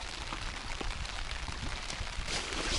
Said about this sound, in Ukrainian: пішов дощик і такий не слабий